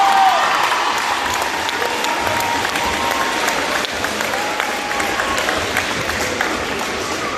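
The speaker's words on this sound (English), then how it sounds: "So let's hear it for Mr. Roberts." Sustained applause and clapping from a school assembly crowd honoring a coach, steady and dense throughout, with a few voices mixed in.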